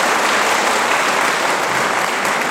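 A studio audience at a televised debate on impeaching President Nixon bursts into loud, sustained applause, a dense unbroken wash of clapping with no voices standing out.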